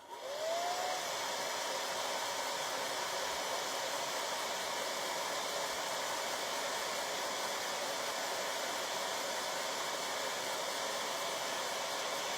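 A hair dryer blows steadily and loudly the whole time as it dries paint on a wooden barn quilt kit, a constant close roar with no voices.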